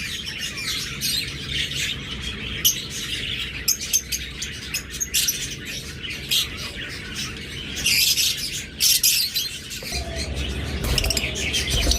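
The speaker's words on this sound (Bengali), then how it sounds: "চমৎকার এই মাস্টার পেয়ার লাভবার্ডগুলো যদি নিতে চান" Pet lovebirds kept as breeding pairs chirp and tweet steadily in a busy aviary chorus, with brief squawks, soft wing flutters and a low background hum throughout.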